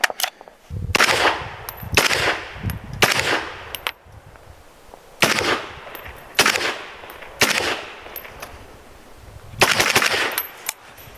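A pinned 16-inch RR Weapons Ventus 556 rifle fires outdoors: about eight loud, close shots come in uneven pairs and singles, each with a short echoing tail.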